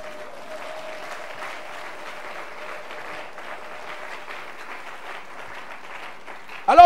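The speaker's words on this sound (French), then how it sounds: "Est-ce que tu peux acclamer Dieu pour ça?" Church congregation applauding God during a French-language sermon, a steady roomful of clapping that fills the whole stretch, with a brief louder vocal burst at the very end.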